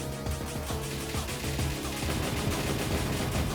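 Rapid, continuous weapon fire from a twin missile shot in the shoot-'em-up arcade game Air Gallet, a dense rattling stream with steady loudness over game music throughout.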